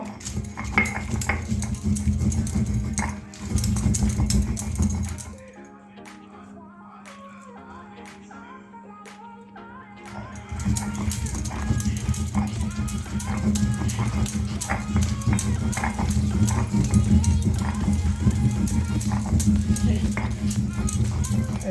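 Dried red chilli and garlic being ground on a grinding stone, with a steady, rough scraping and knocking rhythm. A person talks over it, and the grinding pauses briefly partway through before resuming.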